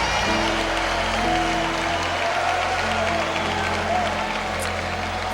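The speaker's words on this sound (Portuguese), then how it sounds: "Aplauda Jesus" A church congregation applauds for Jesus, a dense, continuous wash of clapping and crowd noise that fills the room steadily, with voices blended in.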